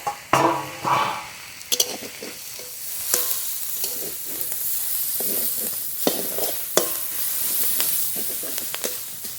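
Kohlrabi leaves frying in a pan at home, a steady soft sizzle with repeated scraping and stirring clicks from a utensil, close up and without talk.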